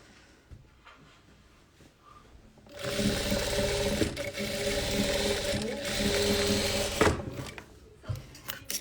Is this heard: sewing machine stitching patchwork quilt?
yes